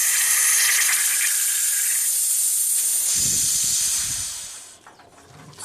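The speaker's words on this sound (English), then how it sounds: "I'm going to put compressed air in the hose" Compressed air hisses loudly and steadily into a hose from a pressurized tank while troubleshooting a stalling BMW, then tapers off near the end with a low rumble underneath.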